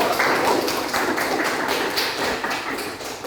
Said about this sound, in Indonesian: Bisa kasih aplaus untuk kelompok 1.